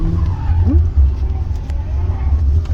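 Cars circle a racing track and tyres squeal in a skid, a loud steady engine roar running underneath with a brief rising squeal; people talk over it.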